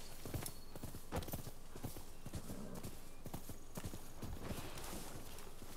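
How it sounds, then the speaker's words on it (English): In Rise of the Ronin, rhythmic clip-clop of horse hooves at a quick gallop, fairly faint, with a brief whinny-like sound and game-like ambience. "I probably should just call for my horse."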